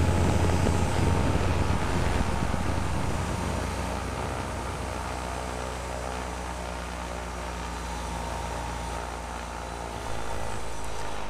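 An aircraft propeller engine drones steadily in flight at a fixed high RPM, a continuous buzzing hum mixed with wind rush across the microphone, with no talk.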